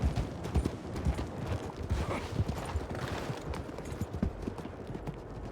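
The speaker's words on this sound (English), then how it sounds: "Let me get my horse here, actually." Steady clip-clop of horse hooves in a Western role-play video game, a busy continuous rhythm of close, fairly loud hoofbeats with no talk over it.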